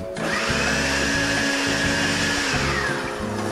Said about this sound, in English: a blender will get you there twice as fast